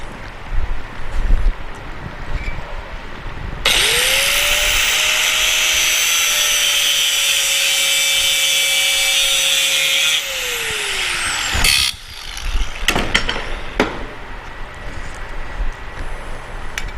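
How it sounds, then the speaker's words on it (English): An angle grinder cuts sheet metal on the transmission tunnel of a 1967 Chevelle, a loud, steady high whine lasting several seconds then winding down, followed by a few sharp metallic clanks and shop noise. "Grinder."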